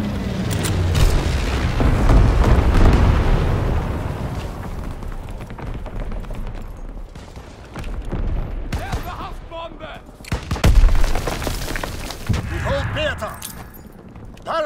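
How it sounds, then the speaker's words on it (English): Bomber dropping incendiary bombs in Call of Duty WWII, with deep rolling booms and rumbling explosions that swell and fade, a sharper blast later, mixed with game voices and radio chatter. "Low altitude bomber inbound. Dropping incendiary."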